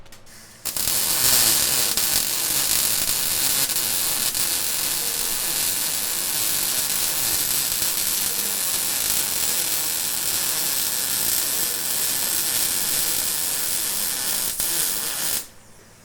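Welding on a homemade metal helmet, a steady, loud crackling hiss that starts abruptly, holds evenly for about fifteen seconds and cuts off, with no talking.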